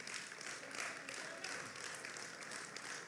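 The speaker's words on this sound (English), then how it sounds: "We clap for that" An audience at a political rally applauds, a steady, moderately distant wash of clapping that holds evenly for a few seconds.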